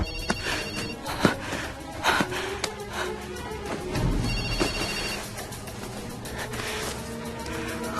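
A telephone rings repeatedly in a tense film scene, its regular electronic ring pulses standing out over a low background of sighs and breathing, with no talk.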